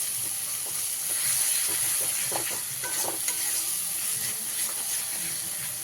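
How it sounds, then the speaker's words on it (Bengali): Masala fries in oil for a fish curry as it is stirred, a soft continuous sizzle with intermittent scraping and clinks of the spoon against the pan, fairly close and steady. "যতক্ষণ না তেল ছাড়ছে ততক্ষণ পর্যন্ত আমি মশলাটাকে ভালো করে কষিয়ে নেব"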